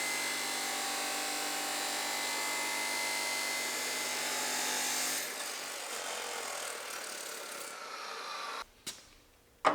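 A fancy power saw cuts through a fresh length of steel with a continuous harsh, grinding whine for about five seconds, then winds down into quieter rasping before a couple of short clunks at the end.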